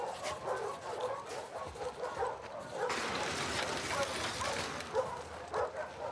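Dog in The Last of Us Part II on PS5, heard as short yips and whimpering barks over game ambience and background noise, with people talking nearby.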